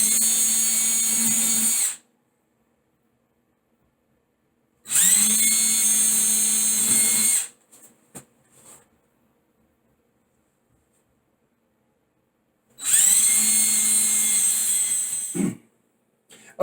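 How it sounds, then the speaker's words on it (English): A power drill bores holes into drywall for towel hook toggle bolts in three loud, close bursts of steady high whine, separated by silence and a few small clicks and taps. "let's go ahead and get our holes drilled here"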